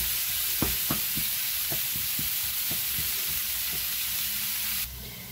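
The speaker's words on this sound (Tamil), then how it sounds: "இதை நல்லா வதக்கி விட்டுருங்க." Onions sauteing in a pan for a vendaikkai kara kuzhambu, a dense steady sizzle punctuated by a series of rhythmic spatula taps and scrapes, then the sizzle drops abruptly near the end.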